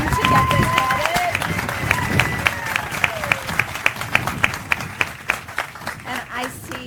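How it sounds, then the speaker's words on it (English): An audience at a reverse osmosis plant dedication claps. The applause is moderate and sustained at first, then thins to scattered individual claps before fading. A voice talks over the early part. "we should give a round of applause for the workers who run the RO plant"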